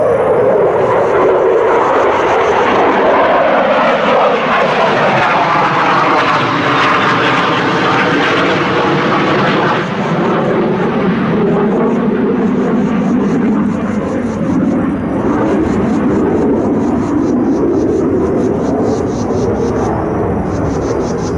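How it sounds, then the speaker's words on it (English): A loud, continuous jet engine roar passing overhead, rising and shifting in pitch as the aircraft banks and turns, filling the whole stretch. "that jet that's doing acrobatics right over our head"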